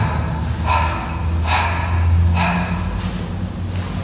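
Three steady breath exhalations during a seated senior exercise routine, spaced about a second apart, close and moderately loud against a low background hum.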